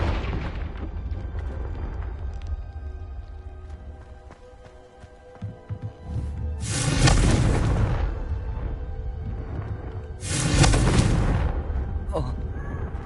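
Confringo spell explosions in the Hogwarts Legacy video game: two heavy booming blasts a few seconds apart, each a broad roaring burst that fades, over low game rumble, with a voice heard earlier.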